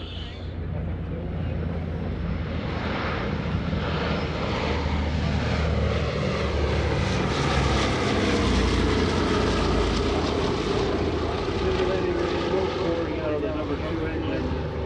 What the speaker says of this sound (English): B-17, Flying Fortress.